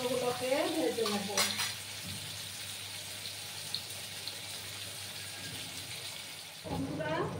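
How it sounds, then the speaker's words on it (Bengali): Ash gourd pieces frying in a pan give a soft continuous sizzle with a few stirring and utensil clinks near the start and end, fairly quiet and close by. "আর একটু সময় নিয়ে আমি কুমড়োগুলোকে ভেজে নেব।"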